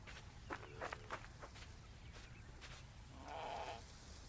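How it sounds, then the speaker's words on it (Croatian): Goats bleat in Assassin's Creed Origins, a game set in ancient Egypt: several short, mid-distance bleats early on, then a longer, louder bleat near the end, over steady ambient background noise. "Opa, evo opet neki koza"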